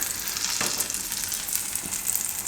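Grated vegetable rosti frying in oil in a pan over a medium flame, a steady close sizzle and crackle with a couple of brief sharper pops, no talking.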